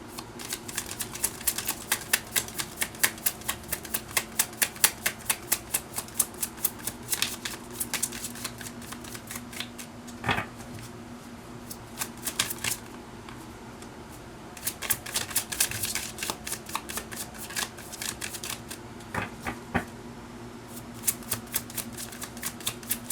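Tarot cards are shuffled up close in a steady run of sharp, rapid riffling clicks with brief pauses between bursts, heard alone.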